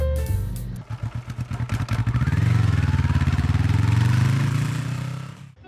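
A Yamaha Tracer 9 GT+ with its CP3 three-cylinder engine and automatic Y-AMT gearbox pulls away under the rider. Pulsing low revs climb into a loud, steady engine drone that holds for several seconds before easing off, with no talking.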